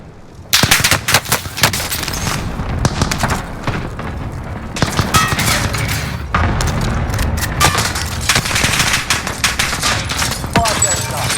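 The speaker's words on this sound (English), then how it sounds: "Allied cluster strike inbound." In the Warzone video game, a cluster strike and gunfire sound as dense bursts of rapid shots and heavy booming explosions. They are loud and near, come in clustered volleys, and brief voice chatter mixes in.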